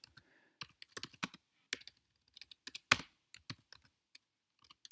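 Someone typing a series name into an Excel chart on a computer keyboard, quick irregular close keystroke clicks in short bursts with brief pauses, no talk.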